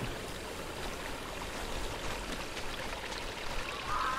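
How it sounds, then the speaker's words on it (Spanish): Flowing stream water in a survival video game, a steady soft rushing and trickling wash, continuous and fairly quiet throughout. "Ah, hay agua. ¿Esto no vale como agua?"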